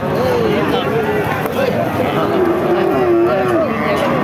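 Cows moo repeatedly over a dense, noisy crowd of livestock and people talking, a busy outdoor Bangladeshi cattle market din throughout, including thin native-breed cows.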